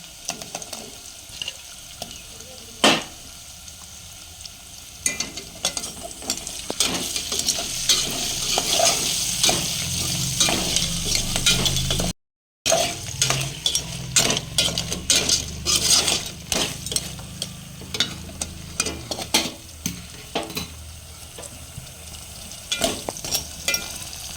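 Crabs for crab curry frying in a pan, with steady sizzling throughout, frequent scrapes and clinks of a stirring utensil against the pan, and bursts of louder crackle in the second half; no talking.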